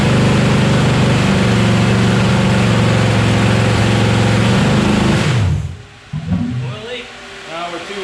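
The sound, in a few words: Oldsmobile Cutlass engine running, possible misfire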